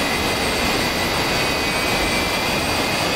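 A jet engine in the DCS flight game spools up as power comes on with the brakes held, giving a loud, steady, full-bodied roar with a whining high tone that holds without a break.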